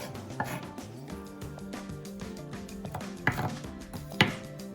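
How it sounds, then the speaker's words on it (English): A knife chops food on a chopping board in steady, rapid cuts, close and clear, with a couple of sharper knocks toward the end and no talking. "Carefully, with the knife against my knuckles, just simply cutting down straight and safely until I get to the end."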